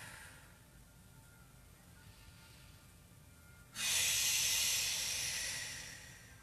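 A single slow, audible breath in a gentle yoga practice, a soft airy hiss that swells suddenly midway, holds, then gradually fades, close and alone.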